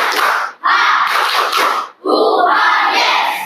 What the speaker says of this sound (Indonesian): Tepuk tangan. Semuanya. Tepuk semangat.